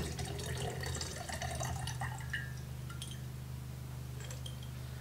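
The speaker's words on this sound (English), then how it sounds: "So I am going to just strain some of this water out back into that 1/2 gallon container of water." Soaking water from black beans is strained into a half-gallon container, a faint, steady trickle and drip with a few light clinks, close by over a low household hum.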